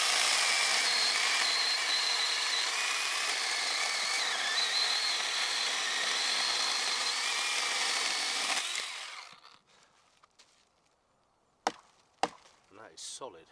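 A small Olmlmo 8-inch battery electric chainsaw cuts through wood with a loud, steady buzzing whine for about nine seconds, then stops, leaving a few faint knocks and clatters.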